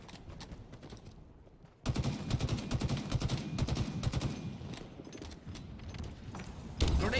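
Grenade blasts and rapid gunfire crackle in a Halo Infinite tournament match, dense and chattering in overlapping bursts after a brief quieter lead-in, with a commentator talking over the action.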